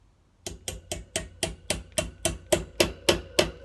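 A stuck fencing foil tip is tapped back into place with a hammer: about twelve sharp, evenly spaced close taps in a steady rhythm, following a brief silence.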